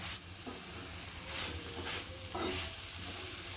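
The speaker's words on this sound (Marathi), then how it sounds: "आपण कोथिंबीर घालूया. चांगली मिक्स करून घ्यायचे." Coriander being stirred into frying dried tengli sukat fish, heard as a faint, steady sizzle with a few soft scraping stirs.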